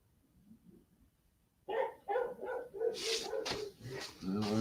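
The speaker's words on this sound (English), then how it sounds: "There's my dogs." Dogs barking at home, a quiet lead-in followed by a burst of loud, repeated close barks and yips in a quick irregular rhythm, with a voice speaking underneath.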